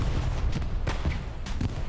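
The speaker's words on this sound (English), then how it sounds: "I heard all the explosions there" Battlefield gunfire and explosions from the Hell Let Loose video game: a rapid string of sharp cracks and bursts over a rumbling low backdrop, dense and continuous across the short stretch.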